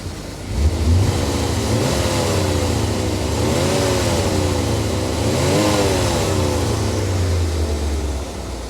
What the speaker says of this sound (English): Let's give her another rev, man. I love revving this motor.